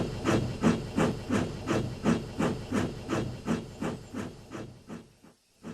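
A cartoon steam engine named Albert chuffs steadily, about a dozen regular hissing puffs rolling by at a brisk, even rhythm before trailing off into a brief quiet.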